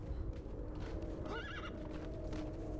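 A horse in the video game Conan Exiles gives a short whinny over a continuous low game background hum, with faint hoof sounds and no talk.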